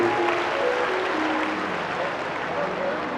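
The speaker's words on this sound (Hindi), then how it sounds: "पधार रही, जोरदार तालियां।" A large crowd at a Shiv Mahapuran religious discourse applauds continuously in a steady, dense roar of clapping, with faint voices mixed in.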